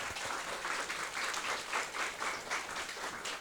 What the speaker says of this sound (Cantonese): 大家俾啲掌聲佢。